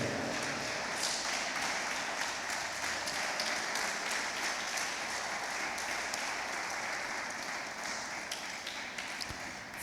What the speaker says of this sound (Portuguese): se coloque de pé aplaudindo bem forte ao